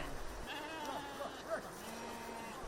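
Goats and sheep on a livestock farm in Manpo bleat faintly in the distance, several short calls heard beneath a steady narrating voice.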